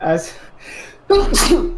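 A single sharp, loud sneeze bursts out near the end, after some brief low talking.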